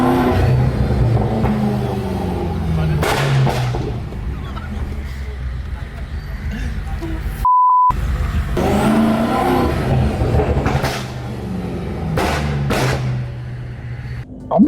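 BMW E60 M5 engine on a city street, revving with sharp pops and bangs that come in bursts, close and loud, with traffic noise and honks around it.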